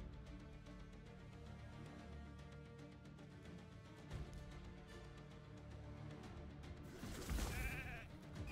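Sheep bleating in the Raid: Shadow Legends video game, a drawn-out bleat rising near the end over continuous game music and effects.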